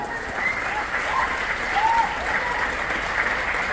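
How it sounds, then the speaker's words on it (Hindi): An audience at a network marketing event claps enthusiastically, a dense steady wash of applause that swells slightly midway. A voice comes faintly through the clapping. "आप सभी लोग इनके लिए जबरदस्त ताली बजाएं"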